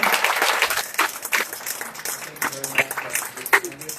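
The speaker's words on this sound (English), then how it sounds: "They give them another robust round of applause." Audience applause at a neighborhood association candidate forum, a moderate mix of clapping from a crowd, steady for several seconds with occasional sharper claps standing out.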